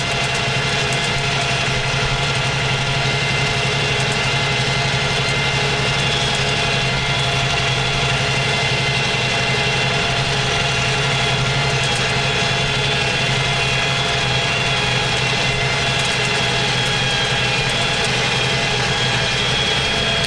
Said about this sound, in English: Can even feel it pulling a little harder there, the tractor.